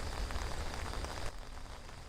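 Rain falls beside an abandoned building in a forest on Hallasan, a dense, close, steady hiss of drops on surfaces that eases slightly partway through.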